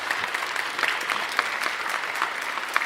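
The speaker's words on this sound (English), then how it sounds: "Please give him a round of applause." A room of attendees at an MLK Day of Service news conference in Philadelphia gives a round of applause, fairly close clapping with distinct individual claps over a steady base.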